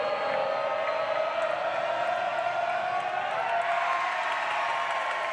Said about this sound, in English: I cannot remember a crowd as loud as this one.